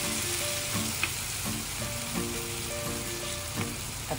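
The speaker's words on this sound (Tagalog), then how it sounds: "Ayan, nilalagay na natin yung soy sauce." Meat sautéing in a pan with soy sauce gives a steady, dense sizzle and crackle, with occasional scraping taps of stirring throughout.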